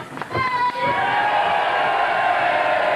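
A crowd at a televised 2000 transatlantic professional wrestling show reacts loudly, with jeers and shouts rising into a sustained wash of noise that fills the whole clip, with a brief burst of louder yells near the start.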